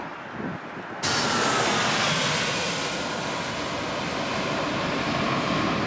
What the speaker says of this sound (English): Nine-year-old Boeing 777-300 with registration B KQM Bravo Kilo Quebec Mike.